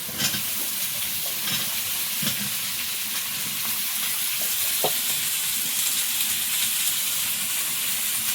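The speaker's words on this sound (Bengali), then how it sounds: "আস্তে আলুগুলো দিয়ে দেবো" Potato pieces frying in oil in a wok after a tempering of five-spice and onion, with a steady close crackling sizzle and occasional scraping stirs throughout, no talking.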